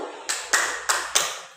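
Four sharp, separate claps from a group doing the 'tepuk satu' ice-breaking clap game, evenly spaced and close, with quiet gaps between them.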